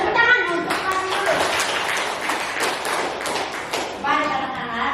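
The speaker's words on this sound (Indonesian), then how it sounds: "kita tepuk tangan untuk masuk dulu" Schoolchildren in an Indonesian class clap their hands together in a brisk, near burst of sharp claps, while a teacher and children talk over and around it.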